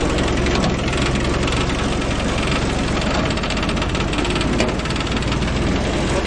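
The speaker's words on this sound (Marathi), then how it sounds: "आता आपण जो आहे ना ट्रॅक्टर चालू करूया त्या ठिकाणी।" A farm tractor engine runs in a field, giving a loud, steady diesel drone with a rough, knocking texture that holds evenly throughout without any pause.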